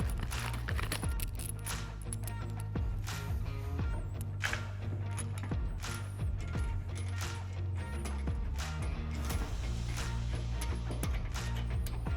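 A bolt is secured on a BOSS snowplow spray boom, with a continuous run of close metallic clicks and ratcheting taps under a low steady hum and no talking.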